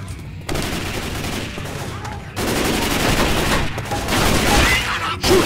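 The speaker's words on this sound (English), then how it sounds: "Shoot that zombie in the back!" Rapid gunfire aimed at zombies in Left 4 Dead 2, sustained bursts of loud shooting broken by a couple of brief pauses.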